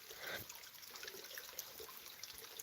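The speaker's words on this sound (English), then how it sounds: "All this water comes pouring down here and just goes straight into that drain." Rainwater pouring down a street into a storm drain, a faint continuous trickling and splashing rush heard from a short distance, with no voices.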